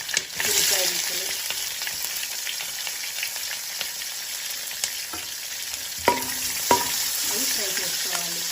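Onion pieces frying in a pan with nutmeg and cloves, a steady close sizzle with occasional scraping and clinks of stirring.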